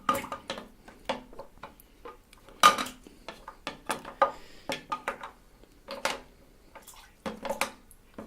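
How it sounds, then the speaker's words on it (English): Water being stirred in a container with a spatula and sloshing against it, close and irregular, with clattery knocks and splashes in uneven bursts. "I'm trying to just basically create a current here a little bit, get the water around"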